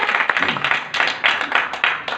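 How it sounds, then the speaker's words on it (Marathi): An audience at a kirtan programme claps for the performing troupe in a series of short, rhythmic bursts of close hand-claps with no talk. "सगळ्यात अगोदर या संपूर्ण संचासाठी आपण इथे टाळ्या वाजवूया"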